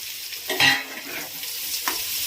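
A spoon works boiled elephant foot yam around a pan as it fries with coriander, cumin, turmeric and chilli, giving a close hiss with a couple of scraping strokes.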